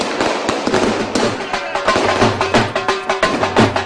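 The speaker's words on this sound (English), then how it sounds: "How much money have you spent on the fireworks?" Fireworks and firecrackers burst repeatedly at a street celebration in Delhi, loud sharp cracks and pops in rapid irregular succession, close by with crowd noise underneath.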